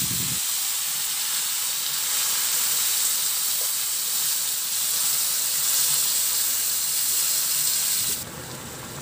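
Pork humba sizzling in a pan as pineapple juice is poured in, a loud, steady bright hiss of frying and steam that stays strong throughout, then drops off sharply near the end.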